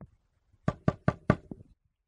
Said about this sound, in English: I bet they had a secret knock